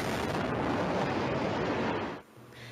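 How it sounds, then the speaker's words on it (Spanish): A tank firing in Raqqa, Syria: a sustained, loud, rumbling roar of heavy gunfire or blasts, broadband and dense, dropping off abruptly near the end to a quieter background. "Este tanque está dando sus últimos disparos en Raqqa."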